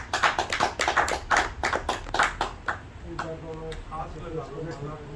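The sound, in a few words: audience clapping at a ceremony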